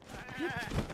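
A goat in the video game Zelda: Breath of the Wild gives one short, wavering bleat, close and clear, with no talk over it.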